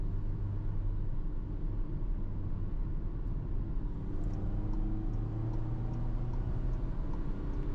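A 2022 VW Transporter TDI diesel drones steadily while accelerating in third gear on a highway, a low continuous engine rumble with road noise heard from inside the cabin, without talk.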